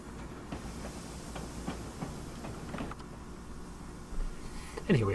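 A train in the Train Simulator video game rolls along the rails, its steady low rumble broken by a rhythmic clickety-clack of wheels over rail joints, with a brief louder clunk near the end.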